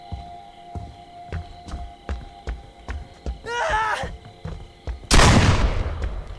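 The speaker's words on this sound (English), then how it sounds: "Don't miss with the flare gun." A single loud flare gun shot in the horror game Friday the 13th, a sudden blast near the end following a whistling, warbling tone and faint ambient hum with soft thuds.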